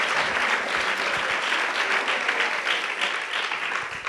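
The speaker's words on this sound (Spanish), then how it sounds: "El aplauso está ripicuiqui, pero como quiera fue un aplauso" A church congregation gives applause in a sermon setting, a sustained crowd of hands clapping steadily for about four seconds, fairly full and even with individual claps showing through.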